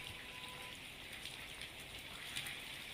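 Heavy monsoon rain falls over the Amreli and Dhari-Gir area, a steady dense hiss of drops on surfaces, faint and unbroken with no voices.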